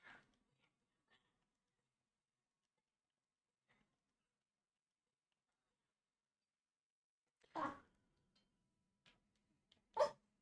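A dog in a cozy mountain-lake game gives a few short, faint barks and whimpers, isolated yips spaced apart by long near-silent gaps, with two louder barks near the end.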